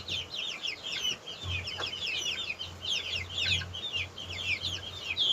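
Soft, repeated clucking and chirping from a bantam hen and her chicks from large-breed hens, fairly close, with bright peeping calls running throughout over low background noise.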